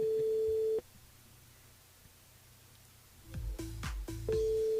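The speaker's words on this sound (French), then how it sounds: "Elle appelle Jamila sur le standard" A telephone busy signal sounds when a listener is called through a radio station switchboard. Its steady tone cuts off, a quiet gap follows, and then clattering handset noise comes in before the tone returns loudly.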